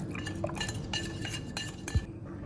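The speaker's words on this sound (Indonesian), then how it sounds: "Nah ini kita aduk sampai halus ya, sampai halus tuh udah nggak ada berindil-berindil lagi ya, halus." Spoon stirring pukis cake batter mixed with poured-in margarine and butter in a bowl, soft scraping with a few light clinks of utensil against the dish, close and quiet, no talking.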